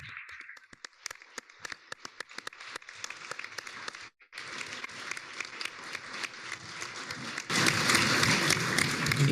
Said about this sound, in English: let's sign the conclusions that I just read with a strong applause from the plenary